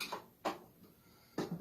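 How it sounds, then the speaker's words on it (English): A damaged screw being turned inside a Sovtek Mutation amplifier, heard as three short, close scraping creaks spaced across a quiet background. "That's the sound of a fucked up screw."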